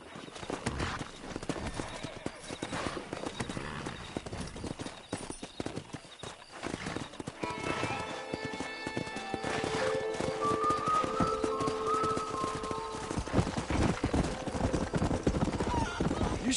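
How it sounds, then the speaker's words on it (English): Wild horses in the Red Dead Redemption video game, hooves clip-clopping and galloping in a steady rhythm with a whinny partway through, layered with game music and ambience. "That ranch hand said there's a pack of wild horses nearby."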